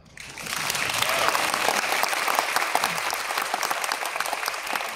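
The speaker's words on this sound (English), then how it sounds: "Can I get a clap?" A crowd at a smartphone launch event starts clapping after a sudden onset, building to a dense, lively burst of applause with crisp individual claps that stays loud to the end.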